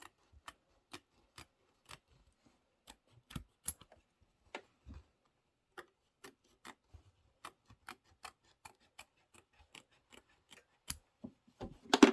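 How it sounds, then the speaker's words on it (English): Scissors snip thread during quilting with a series of crisp, close clicks spaced irregularly, ending in a quick cluster of cuts, with no voices. "Go ahead and trim those."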